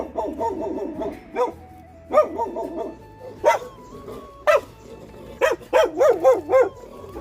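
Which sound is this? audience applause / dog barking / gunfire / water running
dog barking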